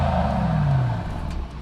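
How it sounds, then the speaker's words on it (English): A 2021 Mercedes-AMG E 63 S 4Matic+ wagon, 603 hp, idling in Sport mode gives a steady low exhaust rumble close by, with a brief rising engine swell partway through and no talk. "if you listen real close, you can hear the exhaust tone change just a little bit"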